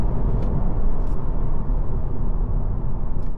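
A hybrid car accelerating to overtake, its engine droning loudly and steadily with heavy road and wind noise, close and continuous.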